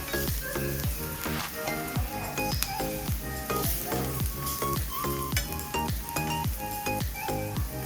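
Garlic frying in an iron kadhai until golden brown, sizzling steadily while a spoon stirs and clinks against the metal in a quick repeated rhythm, close up, with no talking.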